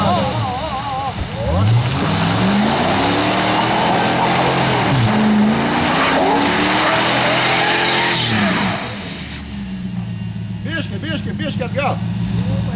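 A Jeep Cherokee engine revs hard off-road, its pitch climbing and falling in long sweeps, with a skidding tire squeal, loud and close. People talk over the engine throughout.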